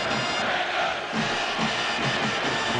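A large football stadium crowd in Minsk at a Belarus v England match roars and cheers continuously, a dense, loud wash of voices with rhythmic chant-like swells.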